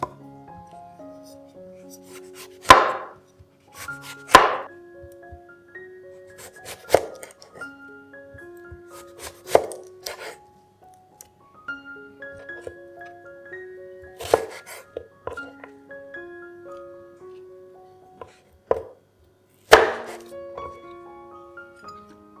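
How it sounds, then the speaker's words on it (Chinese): A knife slices cucumber diagonally on a cutting board, leaving sharp isolated chops spaced a few seconds apart over soft background music. "黄瓜打斜切片，然后对半切放到碗里备用。"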